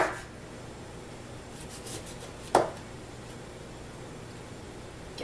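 A knife cuts through a jalapeno on a cutting board in one sharp chop, with fainter scraping around it, heard up close against quiet background hiss.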